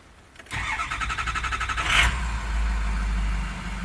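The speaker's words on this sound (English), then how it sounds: "So we're going to crank it" An engine cranks with a rapid, rhythmic starter chug for about a second and a half, then catches and fires into a loud, steady idle that stays close.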